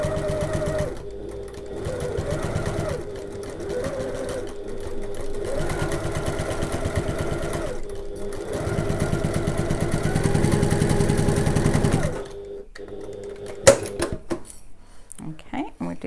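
A sewing machine stitches a tote bag with mesh panels, its steady mechanical whir running in bursts with short pauses, close and fairly loud, with some handling noise toward the end.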